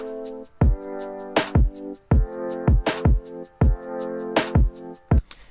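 The dry intro of a Christmas track, lead parts and drums with no effects: layered sustained chords under punchy, evenly recurring drum hits, played alone and fairly loud.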